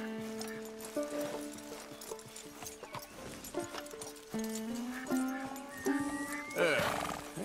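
A horse in Red Dead Redemption 2 neighs and whinnies over clip-clopping hooves, mixed with game sounds and voices talking.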